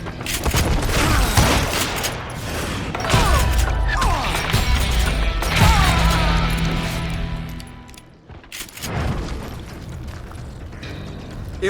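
Loud Western-style gunshots and clattering mechanical action in the video game Call of Juarez Gunslinger, with repeated sharp bursts across the span, a brief lull, then more shots.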